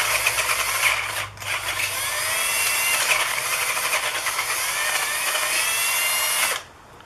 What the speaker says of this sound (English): I did have to take my drill and enlarge these holes a little bit so that they fit the screws I had.